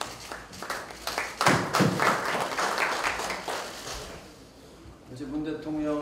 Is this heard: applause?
yes